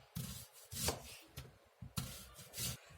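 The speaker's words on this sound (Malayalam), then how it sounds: "സവാള കുറച്ചൊന്ന് കട്ടിക്ക് തന്നെ നമുക്കൊന്ന് അരിഞ്ഞെടുക്കാം" A knife cuts thick slices of onion for bajji on a wooden board, making about seven close, distinct chops at an uneven pace with short crunches between them.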